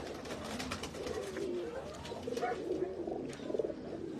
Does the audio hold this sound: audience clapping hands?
no